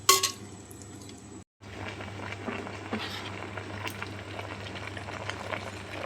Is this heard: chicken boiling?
yes